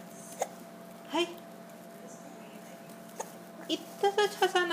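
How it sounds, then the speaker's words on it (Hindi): A baby gives several sharp little hiccups, one early and a quick cluster near the end, close to the microphone in a quiet room with a faint background hum; brief vocal sounds mix in. "इतनी जल्दी हिचकी आ गई."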